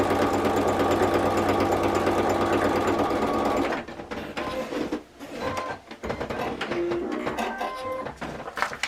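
A sewing machine runs a steady quarter-inch seam down scrappy Christmas quilt fabric, a loud continuous whir for several seconds that then breaks into choppier, uneven stitching and handling noises.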